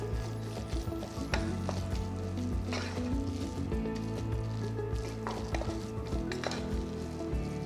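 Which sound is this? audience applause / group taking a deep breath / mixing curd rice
mixing curd rice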